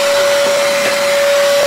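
A TACKLIFE 800W, 5-gallon ash vacuum cleaner for fireplace and grill ash runs steadily and loudly, giving a constant motor whine over a broad airy rush, with no talking.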